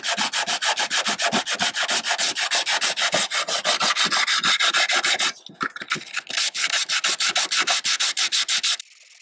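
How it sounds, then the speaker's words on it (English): Fast, steady back-and-forth rasping of coarse 36 grit sandpaper scrubbing the inside of a fiberglass gutter section, loud and close, with a brief pause midway before the strokes resume. "Make sure you sand the inside real good with the supplied 36 grit sandpaper."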